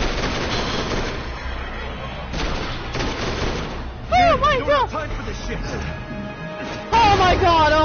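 Gunfire bursts from a Resident Evil 6 battle, dense and rapid through the first half, mixed under excited talking and game effects; lively speech then carries on over lighter background noise.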